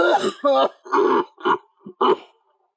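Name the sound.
coughing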